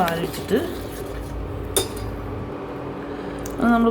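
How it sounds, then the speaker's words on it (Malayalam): Milk poured into a cup and stirred produces a brief liquid trickle, then clinks and chinks of a spoon against the cup, close by, with faint talk in the background. "പാലൊഴിച്ച് കൊടുക്കുന്നു. എന്നിട്ടത് ഇളക്കുന്നു."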